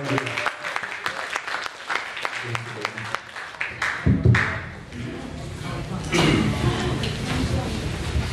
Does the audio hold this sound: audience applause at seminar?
yes